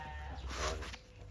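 A single sheep from a newly arrived flock of about two hundred lets out one short, fairly close bleat, heard on its own without talk.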